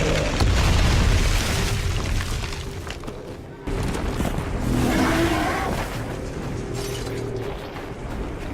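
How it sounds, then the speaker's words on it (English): Several gunfire bursts and booming impacts from the video game Darksiders II, layered over rumbling mechanical noise and a steady low background. "A few gunshots should get him dazed."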